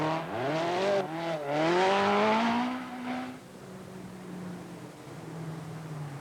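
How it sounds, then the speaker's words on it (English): Lancia rally car at the 1982 Monte Carlo Rally revs hard while executing three-point turns, engine note rising and falling in a few loud swoops, then settling to a lower steady drone. "Practicing his three-point turns is biason in the second Lancia."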